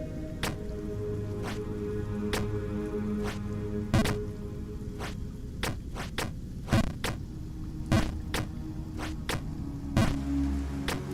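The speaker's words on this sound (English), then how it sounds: "That's why I've come back here, to hear the rain." Rain in the video game Jump King: steady pattering rain with scattered distinct drips landing at irregular intervals over a soft continuous wash, heard alone at moderate level.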